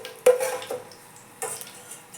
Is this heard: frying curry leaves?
yes